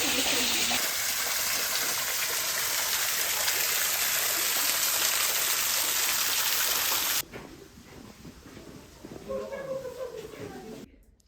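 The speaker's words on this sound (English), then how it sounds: "it's a waterfall." Waterfall spilling inside a tunnel at Sintra, a loud steady rushing splash filling most of the clip, then dropping suddenly to a quieter trickling wash near the end.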